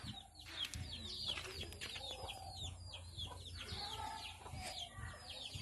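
A chick peeps in quick, high, repeated chirps outdoors on a farm as a child chases it, with faint clucking fowl and low background noise around it.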